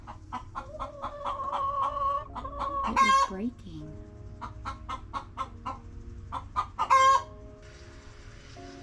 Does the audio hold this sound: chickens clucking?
yes